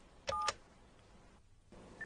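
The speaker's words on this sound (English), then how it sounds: "hook up the device to your phone and dial" Touch-tone phone dialing the three-digit number 117 in Japan, a quick series of short DTMF beeps close together, clear and alone, followed by a quiet line.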